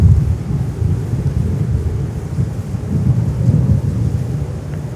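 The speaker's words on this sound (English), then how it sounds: "The wind, we still have the wind." Steady wind gusts buffet an outdoor microphone at an airport plane-spotting spot near JFK, a loud low rumbling roar that swells and eases throughout with no other clear sounds.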